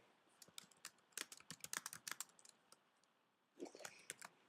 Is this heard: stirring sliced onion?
no